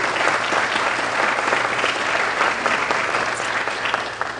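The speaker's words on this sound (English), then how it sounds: "time to clap" Dense, sustained applause from a large audience at a political talk show taping, steady and loud throughout with no pauses.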